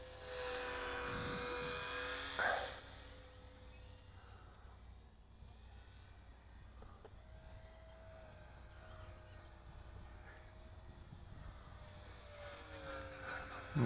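An Eachine Mini Cessna 4-channel stabilized RC plane's electric motor whines steadily in flight. The buzz is loudest at first, then drops as the plane moves farther away, and it swells again near the end with no talking.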